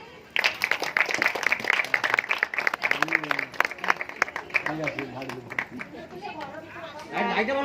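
An audience claps at a family stage show, a burst of quick, uneven hand claps lasting several seconds, with voices chattering and calling out over and after it.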